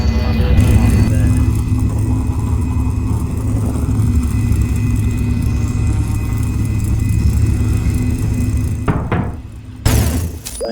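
A vehicle in the game Starship EVO drives up a ramp with a steady, loud engine drone and mechanical hum, then ends with a couple of sharp thunks near the close.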